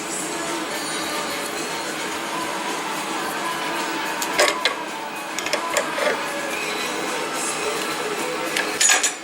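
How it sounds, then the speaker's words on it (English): A bushing is pressed out of a 1968 Triumph TR250 front suspension part by winding down a nut. Close, scattered creaks and clicks sit over a steady background hiss, with no talking. "So it's just pushing that bushing out."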